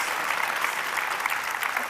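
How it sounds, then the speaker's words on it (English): A brief burst of steady audience applause at a luncheon, even clapping heard at moderate distance without any talking. "give them a round of applause for their brains"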